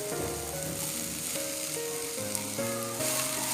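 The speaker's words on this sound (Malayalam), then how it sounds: "ഇനി 1/4 കപ്പ് തേങ്ങാക്കൊത്തും കൂടി ചേർത്ത് കൊടുക്കാം." Onions and coconut pieces sauté in coconut oil with a soft, continuous sizzle, while tonal music plays over the top.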